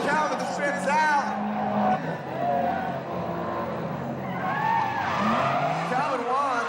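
A drift race car at a 2005 Formula Drift event spins out, its tires squealing and skidding in wavering screeches over roaring engines, while a commentator talks over the action.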